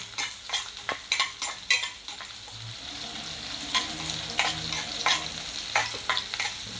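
Whole spices browning in a hot pan for Malvani chicken, a steady sizzle under repeated close spatula scrapes and knocks against the metal, with no voices.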